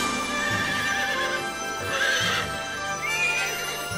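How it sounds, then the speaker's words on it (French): A cartoon pony whinnies loudly over a steady stream of hoof clip-clops, with a second neigh near the end, all under a constant background score. "Il s'est retransformé en poney."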